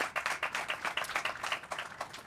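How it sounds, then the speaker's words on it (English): An audience at a panel discussion gives a short round of applause, individual claps clearly audible in a quick, uneven patter that stays moderately loud across the whole stretch. "Please give him a round of applause and thank you for joining us."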